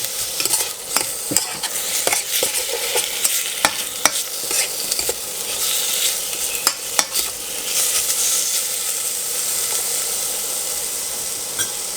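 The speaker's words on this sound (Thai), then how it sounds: "ก็ผัดให้เข้ากับเครื่องผัดอะครับ แล้วก็ ให้มันเริ่มสุกนิดนึง" Pork belly stir-frying in a pan with aromatics for a pineapple soup gives a loud, constant sizzle and hiss, broken by repeated scraping stirs and clacks of the utensil, close up with no voices.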